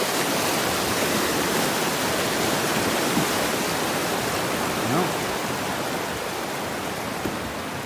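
Evelyn Creek flowing near a trail crossing on the Skyline Trail in Jasper National Park, a steady broadband rushing of water, close and constant, with no talk heard.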